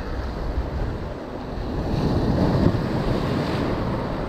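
Ocean surf breaking on a beach near Santa Monica, California, a steady broadband roar with wind buffeting the microphone and a swell of louder crashing near the middle, no voices.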